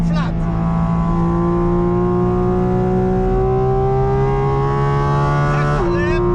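A Porsche GT4 RS runs flat out on the Nordschleife, its engine holding a loud, sustained high-pitched wail that climbs steadily, then briefly dips and rises again with a gear change, heard from inside the car.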